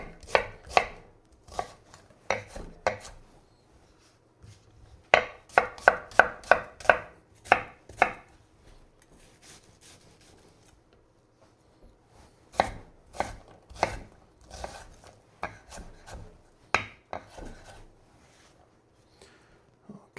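A knife chops an onion on a cutting board for homemade chicken noodle soup, in quick bursts of sharp close taps separated by short pauses, without any talk.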